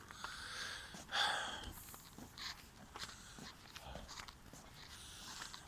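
A dog sniffs and snorts on a quiet night walk, short breathy puffs close by with occasional footsteps, faint and intermittent.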